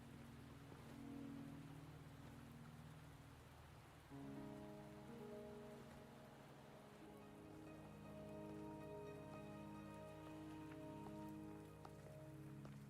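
Steady rain falls in the video game Wuthering Waves, a continuous pattering hiss layered under soft, sustained game music that swells partway through.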